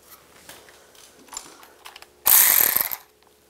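A ratchet wrench tightens a bolt on a rear ABS wheel speed sensor of a 2010-2016 Cadillac SRX, giving a short, loud burst of rapid clicking near the end after quieter handling noises.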